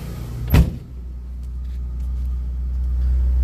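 A French car starts and settles into a steady idle: a short loud cranking burst, then a low, even engine rumble that builds slightly and continues close by, with no talking.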